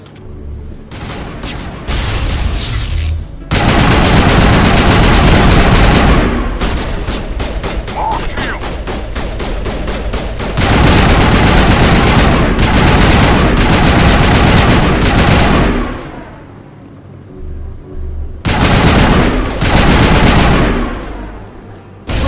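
Loud sustained rifle gunfire in Mass Effect Legendary Edition, long rapid volleys broken by short pauses, dense and close, with a few shorter bursts near the end.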